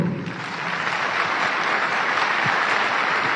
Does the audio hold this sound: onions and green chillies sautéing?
no